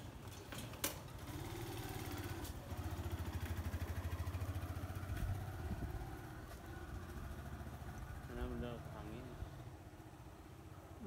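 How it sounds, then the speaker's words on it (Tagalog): A motorcycle runs behind a moving ride at a Christmas Santa Claus display, its steady low engine drone continuing under close talk and background chatter. "Pa may motor sa likod mo ha."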